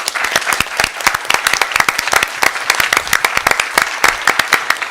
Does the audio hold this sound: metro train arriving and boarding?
no